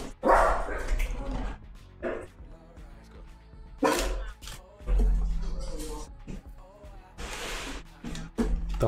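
Dogs indoors bark in loud, sharp bursts at irregular intervals during a sports card box break, with quieter gaps of background noise and some yips between the barks.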